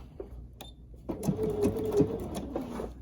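A Bernina 770QE sewing machine back stitching a 1/4 inch seam. It starts after a second of near quiet, then runs as a steady, close mechanical whir with rapid needle ticks for about two seconds, with no talk.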